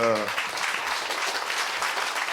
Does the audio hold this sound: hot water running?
no